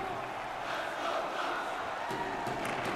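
A hockey arena crowd roars steadily during a 2022 Stanley Cup playoff game between the Vegas Golden Knights and Anaheim Ducks, a dense, continuous wash of cheering with swells throughout.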